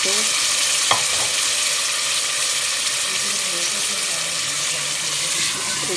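Beef paya being stirred in a cooking pot, a steady sizzle and scraping with a brief sharp clink near the start, continuous and close with no talking.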